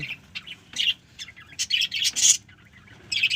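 Pet birds kept at home, including a newly bought white one, chirp in quick bright bursts. Short tweets come irregularly and close by, with brief pauses between calls.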